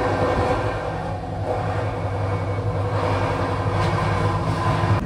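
Jammu Tawi Express moving along the rails on the Amarnath Yatra route, a steady loud rumble and clatter of the carriages that fills the whole stretch without a break.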